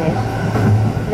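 A seven-car commuter train runs steadily, heard from inside the car as a loud, constant low rumble and rolling noise for a brief moment, without talk.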